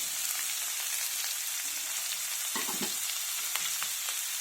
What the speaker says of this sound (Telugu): ఇవి కూడా బాగా ఫ్రై అవ్వాలి.